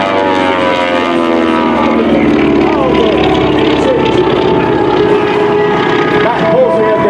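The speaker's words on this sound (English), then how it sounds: "The loud noise that propeller makes when it goes past, that's actually the wind, the propeller tips of the aircraft breaking the speed of sound." A radial-engine propeller airplane at a Dover Air Force Base airshow, its loud droning buzz with a rasping edge from the propeller tips, rising and shifting in pitch as it passes, under an announcer's voice.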